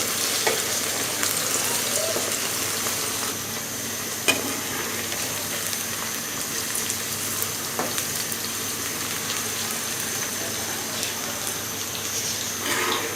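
Okra fries in a pan with a steady, even sizzle that lasts throughout, with occasional soft pops and clicks and no voices.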